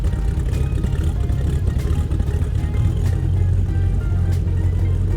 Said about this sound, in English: that's our boss's GT40 you're hearing in the background